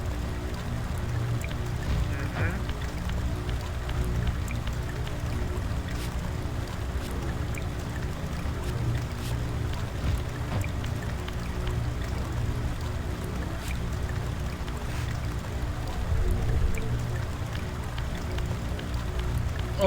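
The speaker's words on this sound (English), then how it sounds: "I like how the water effect ain't going away even in the Spectral Realm." Continuous overpowering water rush in the video game Legacy of Kain: Soul Reaver 2, a steady loud wash with faint trickles and drips that persists unbroken throughout, with no talk.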